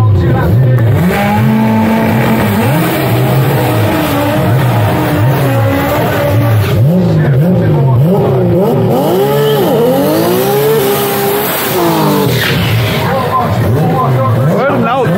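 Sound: Chevrolet Cobalt drag car with 2JZ billet engine making a pass

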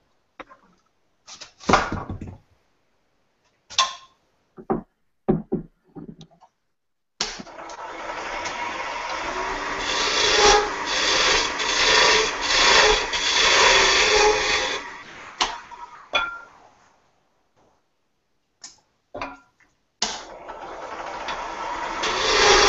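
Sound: square carbide cutter shaping wood on a lathe

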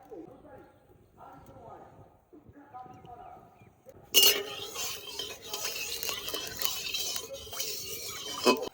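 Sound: mustard oil added to hot wok for frying pomfret

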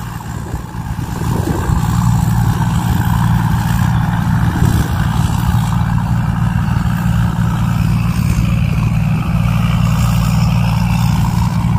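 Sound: engine of Thai Seng Yont Super Jiw combine harvester

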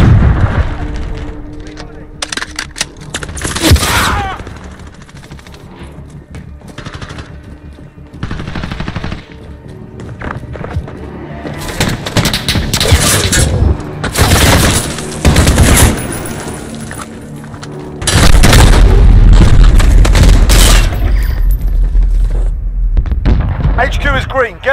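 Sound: cruise missile explosions in Modern Warfare video game

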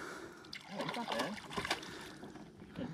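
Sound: fish splashing as it breaks the water surface

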